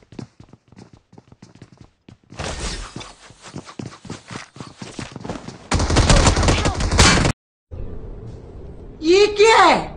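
Rapid bursts of gunfire in the mobile battle-royale game BGMI/PUBG Mobile: first sparse single shots, then dense sustained automatic fire, loud and close, followed by a short gap and a sweeping synthetic effect, with someone talking over parts.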